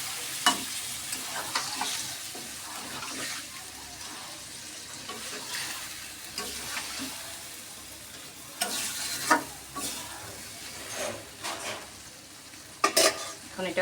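A little water added to fried meat for biryani, with steady sizzling and repeated spatula stirring and scraping against the pot, close by, the bursts of stirring recurring at irregular intervals.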